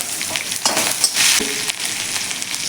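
Chopped green chili and spices hit hot oil with garlic and asafoetida, giving a loud, close, crackling sizzle that flares in bursts as the pan is stirred, with no talking.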